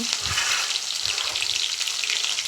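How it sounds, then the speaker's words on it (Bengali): Chopped ginger and garlic fry in hot oil in a pan, a close, continuous crackling sizzle with occasional soft stirring bumps. "তেল দেওয়ার পর দিয়ে দিলাম আদা আদা কুচি আর রসুনের কুচি"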